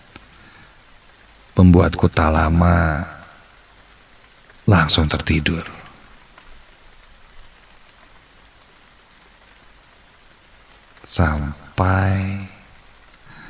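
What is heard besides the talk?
rain falling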